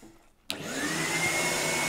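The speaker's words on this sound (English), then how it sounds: "Air rushes up this tube, goes down here to the vacuum cleaner." A vacuum cleaner powering a homemade vacuum bazooka switches on abruptly after a near-silent moment, then roars steadily with a rising whine, loud and close, no voices.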